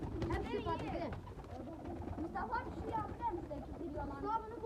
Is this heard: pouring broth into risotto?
no